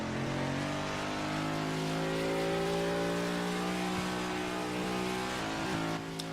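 A race car in a Carvana Cup Series qualifying session at the Advance Auto Parts Grand Prix brakes hard into turn one, its engine tone held loud and close with steady harmonic drone that shifts downward as it slows, no voices over it.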